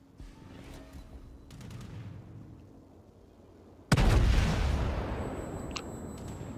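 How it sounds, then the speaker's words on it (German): Amagi battleship main guns firing in World of Warships, a sudden loud broadside blast partway through that decays slowly into rumbling reverberation, after a stretch of quieter distant booms and background battle noise. "ich mache jetzt meine Kanonen leer und mache deshalb nur wenig Schaden"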